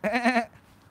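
A single goat bleat, loud and close, a wavering cry about half a second long that breaks off into quiet, at a farm with new goats.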